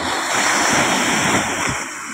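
Ocean waves wash onto the shore with a continuous roaring hiss during strong southwest monsoon winds, steady and fairly loud, mixed with a bit of wind.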